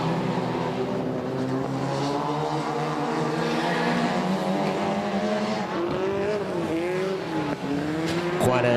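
Stock cars race around a track, their engines droning and shifting pitch as they pass, loud and continuous, with a sharp rising whine near the end and a commentator's voice faintly under the noise.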